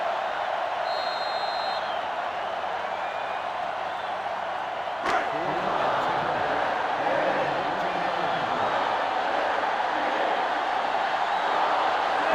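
A loud stadium crowd roars continuously in the NCAA Football 2005 video game, with a sharp hit near the middle, followed by swelling noise under faint background voices.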